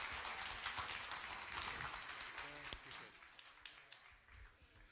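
An audience claps for a councilmember at a civic program, a loud broad burst of applause with a few sharp individual claps that gradually thins and fades.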